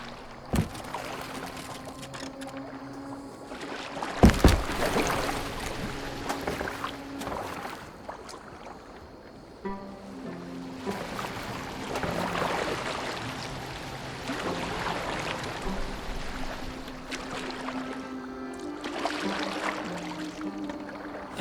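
A boat glides over water in Assassin's Creed Valhalla, with soft continuous splashing and swishing of oars and water under a low ambient hum.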